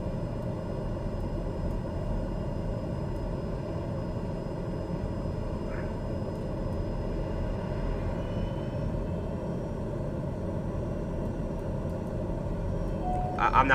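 A plane's engine in a flight simulator game drones steadily throughout, a constant low rumble with little change, close and fairly loud, with only a faint click near the end.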